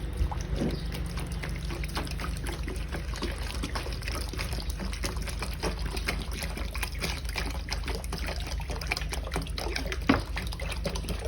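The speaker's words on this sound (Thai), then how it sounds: "ในขวดหนึ่งลิตร แล้วก็เทน้ำลงไปเลยนะครับ" Water pours into a one-liter bottle while fertilizer solution is being mixed, making a steady, close, continuous gurgling trickle from start to finish with no talk.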